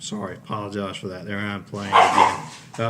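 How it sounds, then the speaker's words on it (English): A dog barks and yips while chasing a rabbit at a house, the short excited barks mixed in with someone talking close by. "that's my dog getting after my rabbit"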